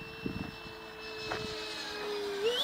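A Mirage jet aircraft flies overhead as a faint, steady engine whine with thin sustained tones, growing slightly stronger and rising in pitch near the end.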